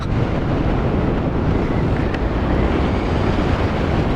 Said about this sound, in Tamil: ஏன் இவ்வளோ காத்து?